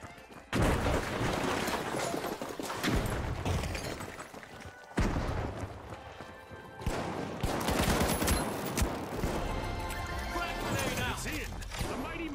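In The Finals, a thrown frag grenade goes off amid chaotic gunfire, with sharp bursts, booms and shattering debris in loud, jagged surges, mixed with voices.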